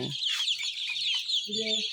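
Fayoumi chicks, about five weeks old, cluck and chirp close by, several birds calling in quick overlapping bursts, fairly loud and continuous.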